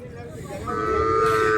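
Cattle at a large Friday bull and cattle market in Krishnagiri district, Tamil Nadu, low mooing that swells into a long, loud, rising bellow, with market chatter underneath.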